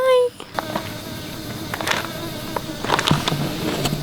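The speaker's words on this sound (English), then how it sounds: "This bug is hovering right on." A small insect hovers and buzzes close by on a boat ride across Inle Lake in Myanmar, a faint, wavering whine drifting in and out over engine and wind noise.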